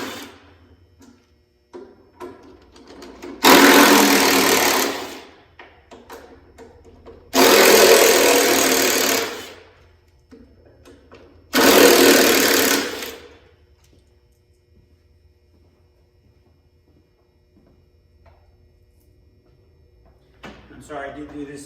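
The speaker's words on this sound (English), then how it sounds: "We'll take all the bolts out of it." A power tool removing the drive shaft bolts on a Yeti Snow MX snowmobile runs in three bursts of about two seconds each, loud and close, separated by quiet pauses with faint background noise.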